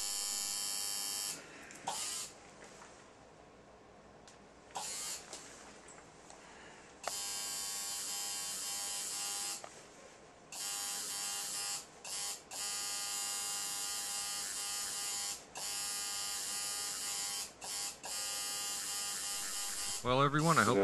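An electric tattoo machine shading skin buzzes loudly in repeated bursts of several seconds, switching on and off with short quiet gaps, and a person speaks at times.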